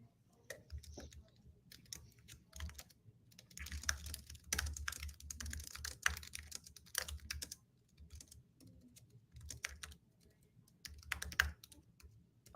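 Quiet typing on a computer keyboard, with irregular bursts of key clicks coming in uneven clusters and short pauses, close but soft, with no talking.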